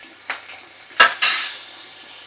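Green chillies frying in a pan for coconut chutney, with a few metallic clinks and scrapes from stirring over a soft, steady sizzle, and no voices.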